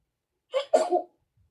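Huggy Wuggy, a cartoon character, gives a short, cute sneeze: a quick high intake followed by a brief burst, close and alone.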